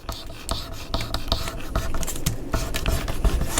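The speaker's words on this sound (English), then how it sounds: "I am going to score this at a 1/2 inch" A scoring tool drawn along paper at a half-inch line for a mini album, giving close, dry scraping and rasping strokes in quick repeated passes, with no one talking.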